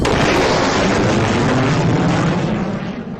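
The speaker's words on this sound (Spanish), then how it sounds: "Un estallido gigante se produjo, una explosión de sonido tan fuerte que podría reventar cualquier vidrio." A massive, dense explosion sound effect boom hits at full loudness and rumbles on for a few seconds before starting to fade.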